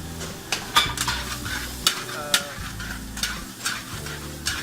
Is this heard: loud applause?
no